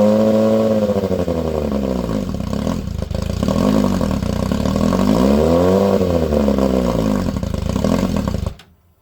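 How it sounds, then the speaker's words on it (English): A 2018 Suzuki GSX-R1000R that will not idle runs only with the throttle held open, giving a loud, close, sustained engine drone that rises and falls, then cuts off abruptly near the end. "the only way to get it to run is by holding the throttle open"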